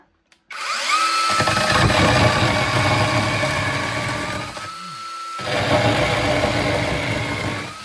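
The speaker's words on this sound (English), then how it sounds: "for this video, I'm gonna cut this with the chainsaw" A small chainsaw engine catches and roars into a steady buzzing idle, dips briefly, then revs up again, loud and close.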